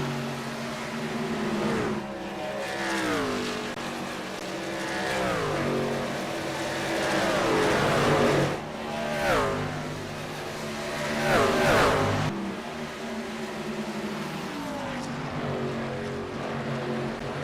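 Race truck engines in a sim-racing truck series at Dover roar steadily, with repeated rising and falling revs as the trucks shift gears. A commentator's voice is faint beneath the engines.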